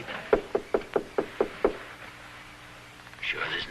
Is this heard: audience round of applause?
no